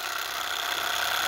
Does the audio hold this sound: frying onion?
no